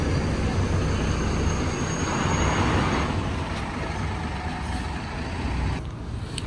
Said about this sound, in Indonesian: Bis kita pergi di tempat parkiran.